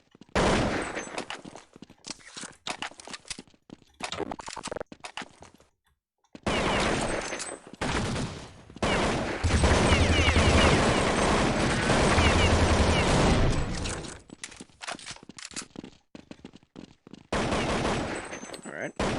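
Counter-Strike gunfire in a 1999-2000 build of the game: rapid bursts of automatic shots, loud and dense, broken by short pauses, with a long sustained volley in the middle.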